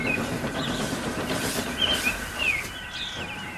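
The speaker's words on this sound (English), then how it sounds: "His train rocketed past and was gone." A large steam locomotive hurtles past on the rails in a continuous, loud rushing roar, with brief metallic squeals and rattling rising and falling over a few seconds.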